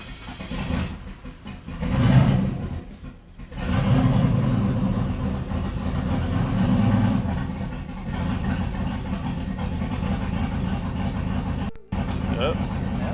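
Turbocharged 5.3 Chevrolet Silverado V8 revving in bursts, the engine rising and falling near the microphone while people talk over it.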